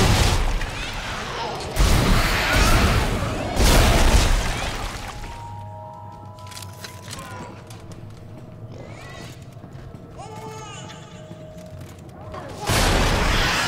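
Dead Space 2 enemies detonate in a few heavy booming blasts near the start, each loud and rumbling, before the scene drops to quieter game sounds and a voice, then another burst at the end.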